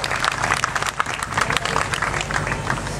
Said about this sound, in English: Let's have a round of applause for Tony